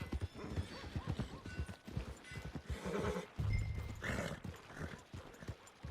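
Horse in the video game Red Dead Redemption 2, with steady clip-clop hoofbeats throughout and a loud whinny midway, mixed with game ambience and brief faint talk.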